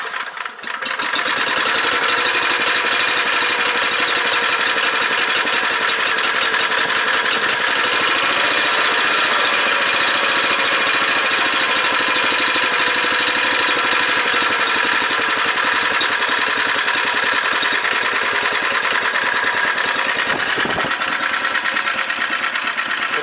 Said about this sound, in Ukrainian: Робота двигуна зараз нестабільна, тому що він холодний.